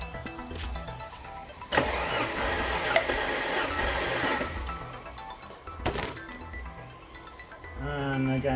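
A car engine cranks for a few seconds during a compression test, a steady loud churning that stops abruptly, with a short second burst later. Someone talks around it.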